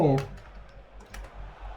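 Computer keyboard keys clicking during a FIFA Online 4 gaming session, a few sharp taps spread over a couple of seconds, heard close up after a short vocal sound at the start.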